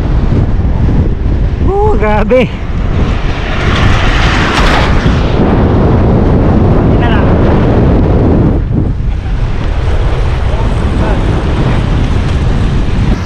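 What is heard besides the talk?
strong headwind and crosswind, wind noise while cycling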